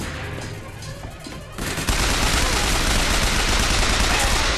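Dense, loud gunfire in the Bioshock Infinite video game: after a short quieter stretch, a sustained barrage of rapid shots fills the rest of the clip with no break.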